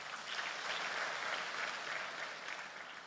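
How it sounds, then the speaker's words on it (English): A church congregation at a Sunday service claps together, an even, continuous wash of many hands applauding at moderate loudness for about three seconds, with no talking over it. "So let's give ourselves a hand clap."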